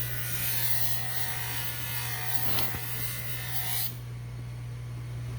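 A polishing wheel buffs a Buick rally rim center cap, a steady buzzing whir with a low hum underneath and a brief rasp of contact midway, then it drops off to a quieter hum near the end.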